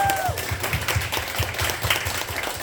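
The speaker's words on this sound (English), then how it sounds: "Can we get a massive round of applause for everyone who has helped put this together?" Attendees at a women's coding community evening event give a round of applause, a short steady patter of clapping with a faint tone at the start.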